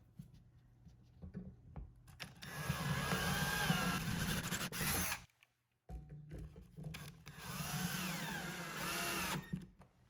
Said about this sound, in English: we're going to drill the pilot hole first and then screw it in